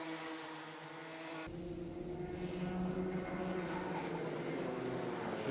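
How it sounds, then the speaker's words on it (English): Racing karts at a club kart race slowing hard into the Stratford hairpin, their small engines dropping in pitch as they brake, heard at a distance as a continuous layered drone over steady background noise. "Hear them on the brakes up there towards the Stratford hairpin, just getting the kart stopped"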